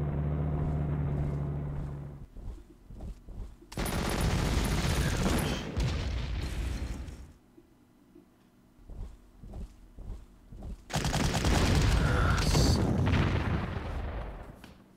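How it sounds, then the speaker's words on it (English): Artillery fire booms in a Stalingrad battle video game. Bursts of heavy blasts and crackling gunfire arrive in several loud clusters, with quieter gaps and scattered distant shots between them. "A lot of artillery."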